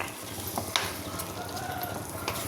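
A soft, steady sizzle of onions frying in oil in a pan, with a few faint clinks and scrapes of stirring, no talking.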